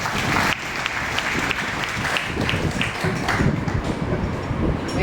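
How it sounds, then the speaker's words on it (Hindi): An audience at a drug-addiction awareness event claps hard. The applause is continuous and crackling, fairly loud, and swells slightly toward the end. "ताली बजाइए।"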